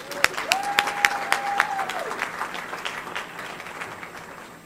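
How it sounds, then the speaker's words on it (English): An audience applauds to welcome a speaker onto the stage at a convocation, with distinct nearby claps over a broader crowd wash, and a brief whistle-like tone rising early before the clapping gradually thins out. "Let's start with a round of applause."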